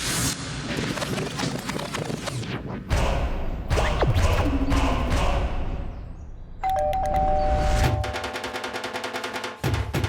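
A house doorbell rings with a sustained electronic chime partway through a busy, loud dramatic scene full of thumps and background music.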